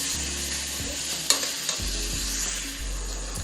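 Beef chili meat sizzles and fries in a pan, a steady close crackle broken by a few scrapes and clinks of stirring, with no voices.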